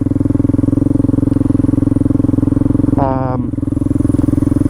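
A Honda Grom fitted with a stock, unmodified CBR 250 engine swapped in from a crashed bike, idling with a loud steady pulsing thump, briefly revved with a rising then falling whine near the middle.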